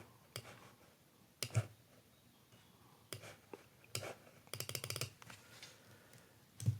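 Quiet clicks of typing on a computer keyboard, scattered single taps and a quick run of keystrokes with pauses between, close and soft.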